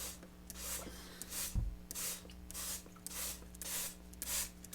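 A hand-pumped spray bottle mists ammonia onto copper pieces for a shipwreck patina, firing several short, quiet hissing bursts in an uneven rhythm, close by.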